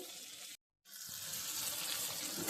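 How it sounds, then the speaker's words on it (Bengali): Water poured from a tap or jug into a pot of hilsa fish curry (ilish macher jhol), a steady close splashing that breaks off briefly and then resumes, louder and fuller. "আমি জল দিয়ে দেবো ঝোলের জন্য"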